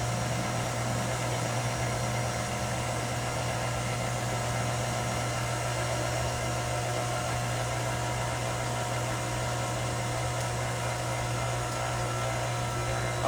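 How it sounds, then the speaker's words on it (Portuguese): An electric stand mixer runs steadily while beating panettone dough, a constant motor hum with a strong low drone and broadband whir that holds unchanged and fairly faint throughout, with no voices. "Até o barulho da batedeira muda, né?"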